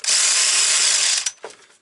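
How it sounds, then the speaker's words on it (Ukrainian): A power tool whirs steadily for over a second while the bucking spike is removed from a Husqvarna 365 chainsaw, then stops with a couple of short mechanical clicks and knocks. "Давайте я упор знімлю, щоб він мене не колов."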